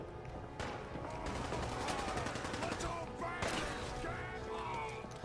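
Dense, continuous gunfire from the video game Fallout 4, with overlapping shots and crashes at steady loudness for several seconds, mixed with other game sounds and a faint voice.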